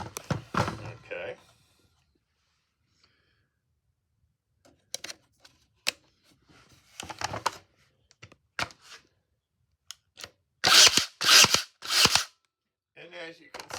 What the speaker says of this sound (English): I can contact fire as long as I hold the trigger in